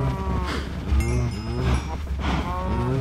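A Minecraft cow moos close up in a few low, drawn-out lowing calls that overlap across the whole moment, with no talking.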